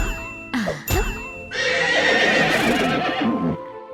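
Horses neigh as a story sound effect, two short whinnies up front followed by a longer, louder neigh with faint jingling and hoof clatter, close and clear with no talk.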